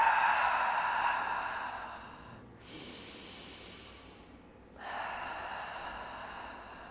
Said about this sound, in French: On n'hésite pas à expirer par la bouche pour commencer.